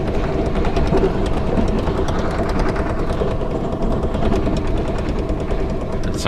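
A car on the Amtrak Southwest Chief rattles and clatters hard in a loud, steady, fast vibrating drone as the train runs along the track, with no talk over it.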